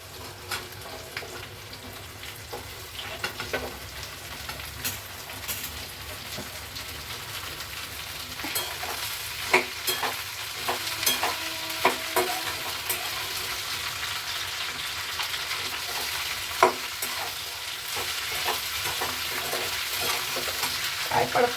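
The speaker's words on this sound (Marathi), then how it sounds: "काय पडतंय बघा, भेंडी पण उडते कढईमधून." Okra fries in a kadhai with kokum and large cut green chillies, a constant close sizzle broken by repeated scraping clatters of stirring that grow a little louder and busier toward the end.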